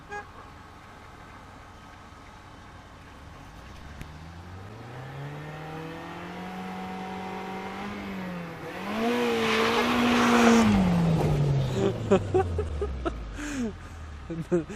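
A BMW E36 attempting a donut revs its engine hard, rising and falling in one long sweep with some tire squeal at the peak, while people talk nearby.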